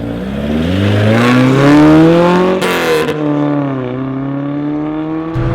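A 1974 BMW 2002 with a stroked M10 engine revs hard and climbs in pitch with a raspy, buzzing tone, then shifts and keeps pulling, loud and close.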